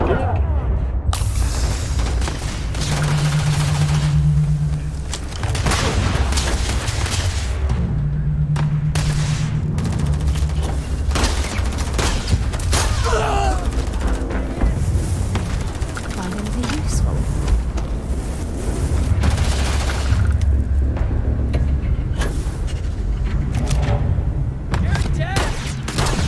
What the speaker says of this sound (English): Quit fucking shooting me with that, you dick!